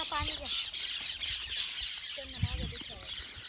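Birds squawk and call close by at an outdoor picnic meal, in a few short bursts, while people talk quietly in the background.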